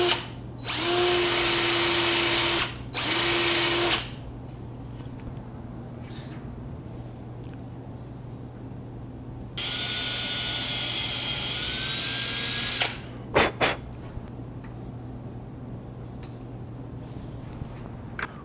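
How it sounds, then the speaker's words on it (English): A power drill with a 3/4-inch bit whines in two short bursts, pauses, then runs again for a few seconds, loud and close, drilling a recess in wood, with quiet clatter between runs. "take a 3/4 inch bit and drill a little recess for this to sit in"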